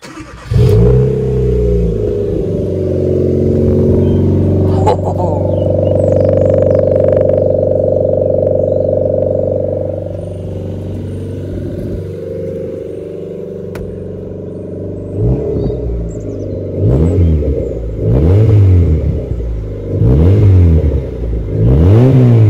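A Ford Fiesta engine idles roughly, then revs up loudly through an open, unmuffled Hoffmann straight-pipe exhaust, holding a high drone before dropping into a series of sharp, blipping revs.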